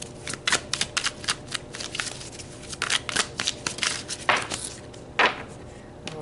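Tarot cards shuffled and pulled from the deck at close range, a run of quick riffling flicks and card slaps with brief pauses between bursts, alone without voices.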